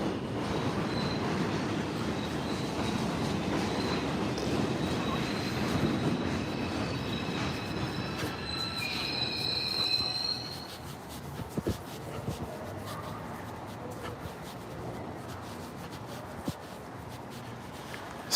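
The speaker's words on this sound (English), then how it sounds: "That's another train." A subway train rolls past on elevated track heading toward Manhattan, a loud rumbling wash with high metallic wheel squeals rising mid-pass, then fading to a quieter rattle and distant clanks.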